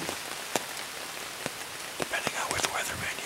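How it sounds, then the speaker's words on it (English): Steady rain hisses across the whole clip outdoors in Wisconsin woods during deer hunting season, with scattered sharper drops and gusty bursts near the end; no voices. "it's raining and windy"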